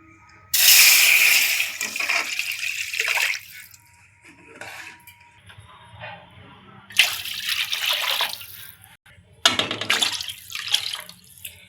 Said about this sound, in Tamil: அதுக்கு 3 கப் அளவுக்கு நம்ம தண்ணி சேர்த்துக்கலாம்.